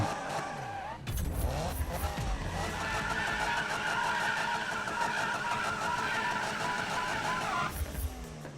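Racing against a Porsche in Need for Speed (2015), with a loud, steady roar of car engines and screeching tires running almost continuously throughout, no talking.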